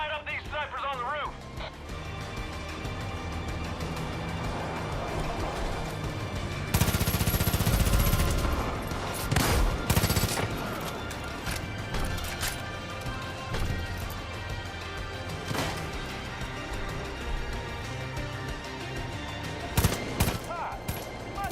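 Bursts of gunfire at snipers on a rooftop in Far Cry 5, with rapid machine-gun volleys and loud crashing impacts, broken by quieter stretches while people talk over the action.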